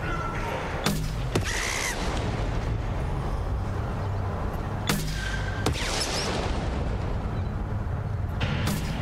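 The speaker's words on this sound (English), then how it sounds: "They die of the explosion." Explosions in the video game Mass Effect 2 during a firefight, several booming blasts and gunfire bursts spaced a few seconds apart over a dense, continuous rumble of combat noise, loud and close, with someone talking at times.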